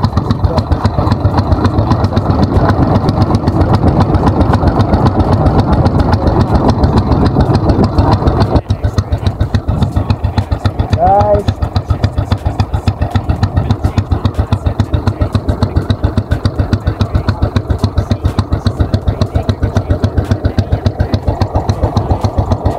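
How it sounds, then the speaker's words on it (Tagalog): A boat engine chugs steadily at close range, its rapid rhythmic thumping continuing throughout, with a brief shift in tone partway through. "naka-andar na yung makina namin at paalis na kami."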